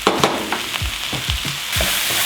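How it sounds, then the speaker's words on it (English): Garlic, jalapenos and ginger flash-fried in a pan, a bright hissing sizzle broken by several close thumps and scrapes of stirring, growing louder near the end. "Tastes better when you just do a little flash fry"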